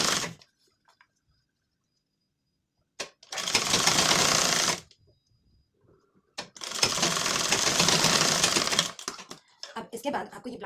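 A sewing machine stitches the side seam of a tucked blouse in two loud bursts of steady rapid whirring, each about two seconds long, separated by quiet pauses and brief handling noises.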